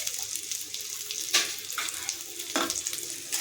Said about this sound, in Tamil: சேர்த்துட்டு இதை நல்லா வதக்கிக்கலாம்.